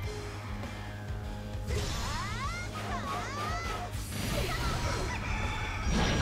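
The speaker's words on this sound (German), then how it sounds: "Kikeriki!" A rooster crows in the video game Hyrule Warriors, a rising and falling call over steady game music and effects.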